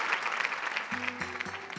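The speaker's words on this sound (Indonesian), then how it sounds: "Beri tepuk tangan untuk Yesova." Audience applause at a Quran-verse continuation event with a young hafiz, a steady patter of many hands in a hall, joined after the first second by sustained low tones underneath.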